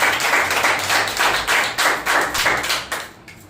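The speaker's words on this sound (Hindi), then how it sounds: "एक जोरदार ताली बजा सकते परमेश्वर के लिए" A church congregation at a Wednesday service claps for God in a loud, fast, steady burst of hand claps that fades out near the end.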